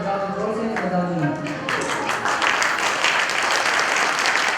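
An audience claps rhythmically during a Hindu religious discourse on the Bhagavat Katha, the clapping growing fuller after a moment under a sung or spoken voice.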